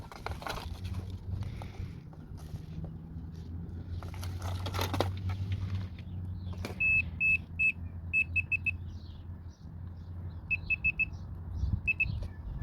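A multimeter on continuity test while checking a block heater core and cable gives several short, high beeps in quick bursts. They sit over a low background hum and handling noise, with some clatter earlier.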